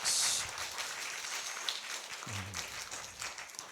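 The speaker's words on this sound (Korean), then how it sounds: "박수." A church congregation claps after a deacon's fervent lead in praise singing, a soft, distant patter of many hands that stays faint and even, with a brief louder rustle at the start.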